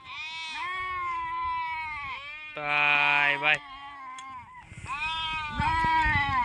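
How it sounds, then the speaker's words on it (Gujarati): Goats bleating repeatedly in rainy Gir forest countryside, loud wavering cries close by, one long harsh bleat in the middle, with a voice briefly heard among them. "આમાં વિડીયોમાં તમને થોડોક બકરાનો જાજો બધો અવાજ આવતો હોય છે, કારણ કે નકરું મેં કરે છે."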